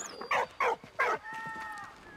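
A dog in the video game Valiant Hearts barks three times in short, evenly spaced bursts, fairly close and clear, followed by a lingering tonal game sound with no speech.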